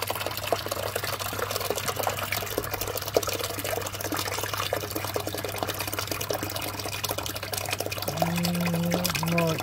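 Water being pumped out of a fish tank during a fish rescue, a steady broadband rushing and trickling that runs continuously at moderate level, with a brief rising tonal whine near the end.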